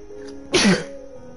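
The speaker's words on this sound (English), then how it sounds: "I feel like I'm gonna sneeze." A single sharp sneeze, loud and close, bursting out alone after a quiet moment and fading quickly.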